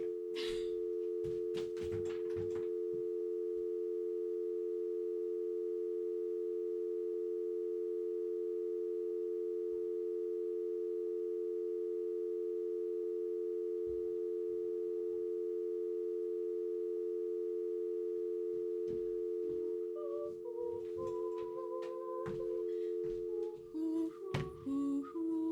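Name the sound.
phone tone in Detective Barbie video game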